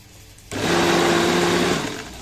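Electric blender running with Syrian garlic sauce (toum) inside: after a quiet moment the motor starts abruptly with a loud, steady whirring hum, holds for about a second and a half, then winds down.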